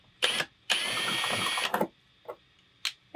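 Tool threading out a stuck old rivet remnant, short mechanical whirring bursts, one long grind followed by brief clicks, close and isolated.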